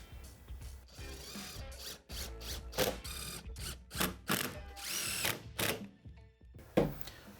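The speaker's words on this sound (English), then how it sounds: "attach the back panel for the upper cabinet with a couple screws" Screws being driven to fasten the back panel of an upper mudroom cabinet, heard as repeated bursts of ratcheting, whirring mechanical noise with short pauses between them, fairly close and with no talk.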